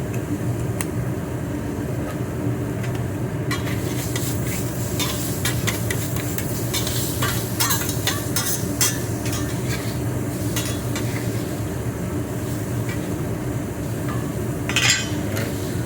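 Regular butter sizzles steadily in a hot pan while a utensil scrapes and stirs, with continuous frying crackle and occasional sharp clinks of metal throughout.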